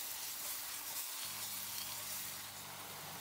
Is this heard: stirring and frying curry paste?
yes